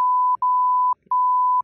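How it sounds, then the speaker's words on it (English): A steady, pure censor beep tone runs in three long stretches, cut off by short gaps where a voice briefly slips through, loud and close. "Should I beep out his name every time we said it?"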